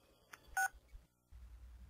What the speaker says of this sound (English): Your cell phone is ringing.